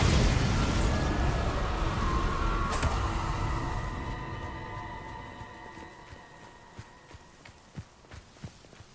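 A Bombarda blast spell in Hogwarts Legacy bursts loud and broadband, its roar decaying over several seconds into scattered footsteps and small thuds.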